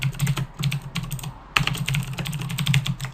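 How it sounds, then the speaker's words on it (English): Keywords typed on a computer keyboard, a quick run of close, crisp key clicks that pauses briefly before resuming in a steady burst, with no talking. "And I'm going to type in a few keywords here."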